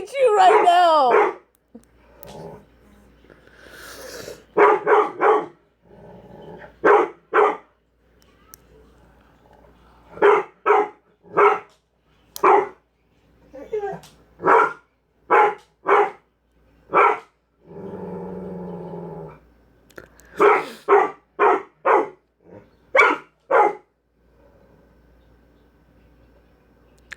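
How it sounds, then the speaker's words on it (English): A dog barks repeatedly in short, loud bursts, clustered in quick runs with brief pauses, over a faint low background hum. "Literally every time I open my mouth, he starts barking."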